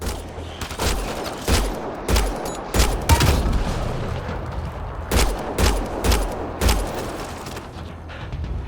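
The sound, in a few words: gunfire in the video game Mass Effect: Andromeda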